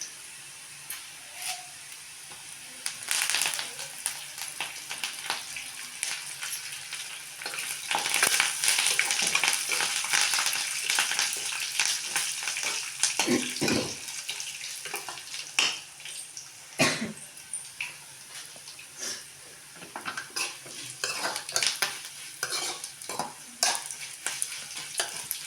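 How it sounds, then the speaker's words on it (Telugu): Curry leaves and cumin crackle and sizzle in hot oil for a tempering, a steady frying hiss with scattered sharp pops and occasional stirring, close and fairly loud with no talk. "ఇవన్నీ కరివేపాకు కూడా వేగిపోయింది కదా"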